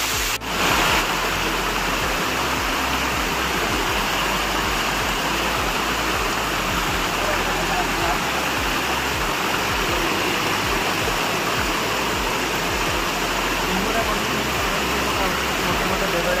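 Monsoon waterfall in the morning rain, a thick, continuous roaring wash of falling water, loud and unbroken throughout, heard close.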